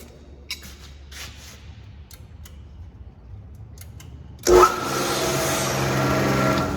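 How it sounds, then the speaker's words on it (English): A pressure pump on a newly installed HEG 3005 sprayer setup kicks on abruptly after quiet handling noises and light ticks, then settles into a steady, fairly loud running hum and hiss that continues to the end. "You can hear the pressure kicked on right there."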